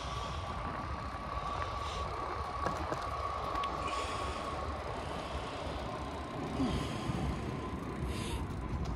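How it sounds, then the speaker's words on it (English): A train rumbles past a railway crossing at a distance with a steady low roar, while a crossing bell or horn tone hangs faintly over the noise. "Sounds like I might get a train crossing."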